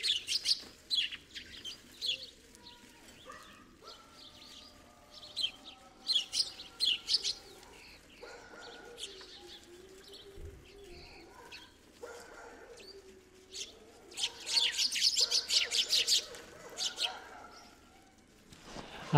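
Field sparrows at a feeder chirping and twittering in repeated bursts, with someone talking quietly underneath and a dog barking briefly in the distance.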